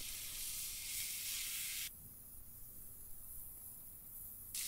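Thick-cut bacon strips sizzling on the griddle plate of a Weber Q 2200 grill, a steady broadband hiss that is loud at first, then drops to a quieter, even crackle.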